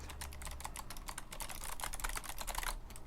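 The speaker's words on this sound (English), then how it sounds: "It's just straight up typing here" Rapid, steady keystrokes on a computer keyboard clatter close up in a quiet room, a dense run of light clicks with no voices.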